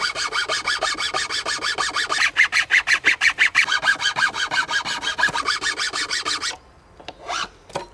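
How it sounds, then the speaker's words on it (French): A hand file rasps rhythmically back and forth across wood, cutting a notch for a primitive crossbow, with steady close strokes that speed up in the middle before stopping, followed by a few faint scrapes. "je peux prendre la lime et faire mon entaille"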